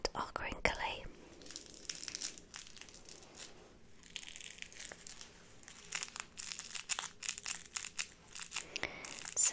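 The squishy, crinkly legs of a baby toy are squeezed and handled close by, making soft crackling crinkles and crunches in irregular bursts, with faint whispering between them.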